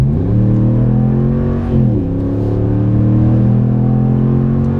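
A 2017 Ram 1500 Sport Night Edition 4x2 pickup with a 5.7L engine accelerates on a handling loop. Its deep, steady engine drone rises, briefly dips as if shifting gears, then pulls on strongly and loudly.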